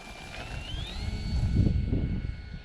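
A Draco RC airplane flies past, its electric motor whining in a rising pitch sweep over steady wind rumble, moderately loud and fading slightly at the end.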